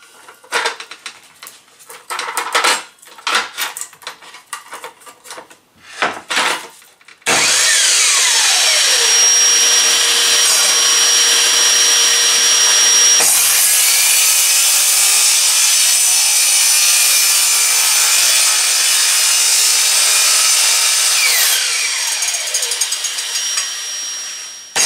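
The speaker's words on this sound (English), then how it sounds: "We're going to make a single cut with the saw." A few scraping, handling knocks give way to a long, loud, steady power saw whine as it cuts once through three wooden boards clamped together, running close and continuous for most of the clip.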